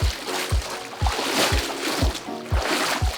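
Water sloshing and splashing in a swim spa during a cardio workout with dumbbells, rhythmic surges repeating roughly every half second, fairly close and steady throughout.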